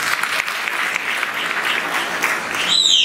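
Sustained applause from an audience at a Maharashtra political rally speech, a dense steady clapping that swells slightly louder toward the end, with a sharp high tone cutting in near the close.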